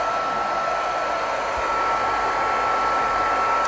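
A hair dryer blows steadily at close range on wet watercolor paper, a constant whooshing roar with a faint motor whine and no talking.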